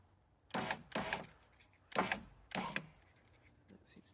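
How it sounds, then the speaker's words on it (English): The electric power window motor on a Honda Integra DC5 runs in four short whirring bursts, two pairs close together, each with the glass moving up or down in a quiet garage, with faint clicks afterward. "checking that the window goes up and down correctly"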